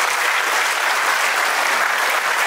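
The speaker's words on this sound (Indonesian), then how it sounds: "Tepuk tangan dong buat kita semua." Dense, steady applause from a seated audience fills the whole stretch at close range, with no breaks or voices over it.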